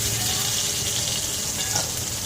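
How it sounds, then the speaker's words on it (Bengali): Pointed gourd slices frying in hot oil after being seasoned with salt and turmeric, giving a steady, close hiss and sizzle throughout with a few faint clinks near the end. "আমার পটল ভাজা হয়ে গেছে, তুলে নিচ্ছি"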